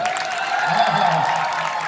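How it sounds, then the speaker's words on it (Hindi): Audience in a Hindi-speaking church gathering applauds and shouts together, a steady dense roar of clapping and raised voices that holds at an even, loud level throughout. "जरा चीख कर चिल्ला कर तालियों"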